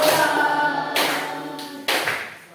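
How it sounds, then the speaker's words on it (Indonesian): Classroom children clap together during a teaching-practice lesson, a few sharp, loud group claps spaced about a second apart, heard over a lingering voice. "Kita tepuk tangan sama-sama"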